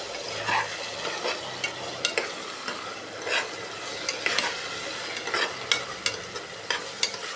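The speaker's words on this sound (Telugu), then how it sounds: "సాల్ట్ వేసి కలిపేసుకోవాలి." Salt is stirred into tomato masala frying in a pan for a masala chaap curry: repeated close spoon scrapes and clacks sound over a soft, constant sizzle, with no voices.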